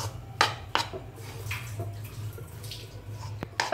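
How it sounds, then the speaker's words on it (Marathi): Besan gram flour and ghee stirred in a pan over a low flame for besan ladoo, a steady gritty scraping with a few sharp clinks of the spoon against the pan, close and fairly loud. "बेसन ब्राउन होईपर्यंत ढवळायचं आहे."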